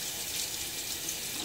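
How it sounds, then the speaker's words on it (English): A gentle stream of water runs from a bathroom faucet while a shaving razor is rinsed, a soft steady hiss with no talking. "you're not turning on a jet, you know, kind of water is falling out of the faucet"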